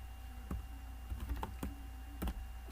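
Computer keyboard typing as C++ code is entered in Turbo C++, with a handful of distinct, irregular key clicks close by and no talking.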